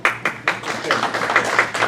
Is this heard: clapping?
yes